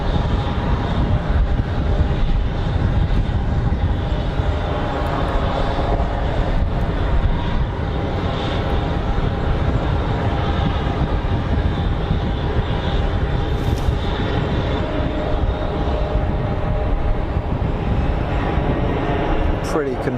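An airliner touching down at Geneva Airport in a steady crosswind, a loud continuous engine and airflow roar sustained throughout, with a voice talking over it.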